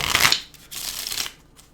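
A deck of playing cards is shuffled close up, with two quick riffling bursts, the second longer, and no talking.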